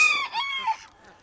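Chickens on a Maine homestead, heard in and around a freshly scraped coop, give a short burst of high, warbling clucks and calls, fairly close and loud at first, then trailing off into quiet.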